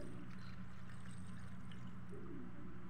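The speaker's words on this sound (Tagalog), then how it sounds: "Tap water." Tap water pouring into a pot for pork sinigang, a steady, continuous rushing splash that holds at an even level throughout.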